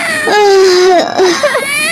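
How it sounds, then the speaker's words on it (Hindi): Cartoon sound effect of a young girl crying, a loud, close wailing sob with long drawn-out cries broken by short gasping whimpers. "एक 8-10 साल की बच्ची के रोने की आवाज भी आने लगी।"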